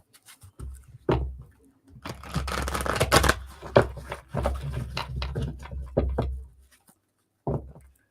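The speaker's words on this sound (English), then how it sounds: "you guys can listen to me shuffle for a minute" Playing cards being shuffled for a psychic reading in repeated riffling bursts with brief pauses, close and fairly loud, ending in a couple of short taps.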